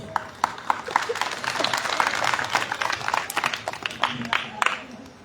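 Audience applause at a spiritual discourse gathering in a village, a sustained burst of many hands clapping with sharp individual claps standing out, fairly loud and continuous, with a voice faintly underneath.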